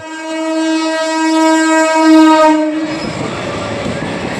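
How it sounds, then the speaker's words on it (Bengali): A train passing a closed railway level crossing on the road to Tarakeswar sounds a loud, close horn for about three seconds, then gives way to a rumbling clatter of cars rolling by. "গেট পড়েছে তো ট্রেন আসার জন্য আমরা অপেক্ষা করি"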